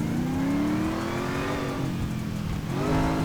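Modded Mercedes engine in GTA 5 revving hard with a loud, steady exhaust drone and crackling pops, close and continuous with no talking.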